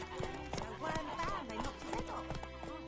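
Roach, a horse in the Witcher 3 game, trots with steady clip-clop hoofbeats and a brief whinny, carrying on under game music and a voice talking.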